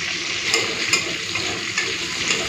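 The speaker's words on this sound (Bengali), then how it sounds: "ফোড়নটাকে হালকা ভেজে নিই" Panch phoron and dried red chilies fry in hot oil in a pan, a steady close sizzle with faint crackles and stirring scrapes throughout and no voices.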